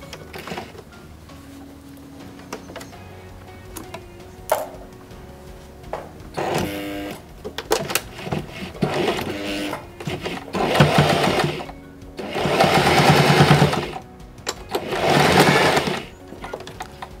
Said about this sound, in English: you're just going to run a row of stitches where that pin is there